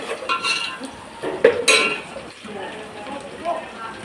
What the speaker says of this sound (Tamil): முந்திரி பருப்பும் போட்டு நல்லா வதக்கணும்.